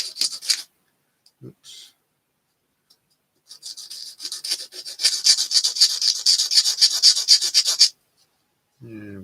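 Small bits are filed and rubbed off a Stuka model kit part in short bursts of fine, close scraping, with a longer steady rasp in the middle and a brief spoken word near the start.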